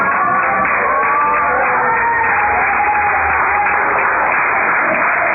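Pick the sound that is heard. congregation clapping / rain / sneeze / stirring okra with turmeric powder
congregation clapping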